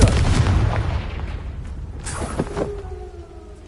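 Confringo fire spell blasts in Hogwarts Legacy on PS5: a loud booming burst up front fading into a rumbling decay, with a couple of sharper cracks and a ringing tone near the end, no talking.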